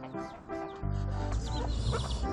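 A pet goose named Creamy honking angrily near feeding hens and chicks, repeated harsh nasal honks close by, loud and insistent over a steady feed-time backdrop.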